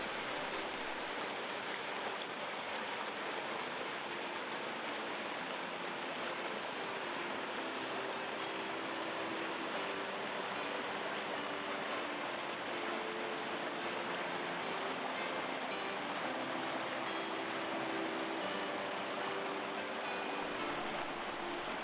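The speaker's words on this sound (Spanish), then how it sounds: "El arroyo Garguelo se desploma y forma una hermosa cascada cuando lleva mucho agua" The Garguelo stream near Ávila plunges as a waterfall in high water, a steady, unbroken rush of falling water with no voices.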